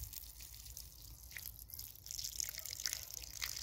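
Water from a running stream poured out during an outdoor full moon ceremony at Blackbury Camp, a soft, steady trickle with faint dripping that grows a little fuller toward the end, with no talking.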